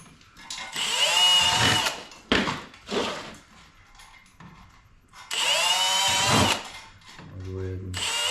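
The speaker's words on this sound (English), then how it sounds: "I'm going to go with the center holes for now. So we'll drill those." A power drill whines in two long bursts with a shorter one between them while holes are drilled for mounting a Tesla Wall Connector, followed by a low rattling buzz, all close and loud.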